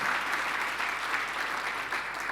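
A church congregation claps hands together during a Sunday sermon, a dense, steady wash of many hands sustained throughout at moderate level, with no talking over it.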